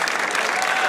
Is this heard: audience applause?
yes